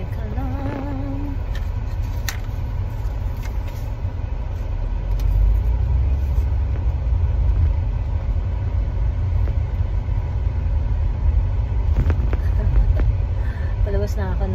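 A car rolls out of an airport parking lot at NAIA, with a low engine rumble that grows slightly louder midway under steady conversation inside the vehicle.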